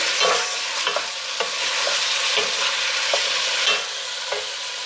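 Onion, tomato and jalapeno sauté in oil while a spoon mixes them, so a steady sizzle is cut by regular scraping stir strokes. It is close and moderately loud, with no speech.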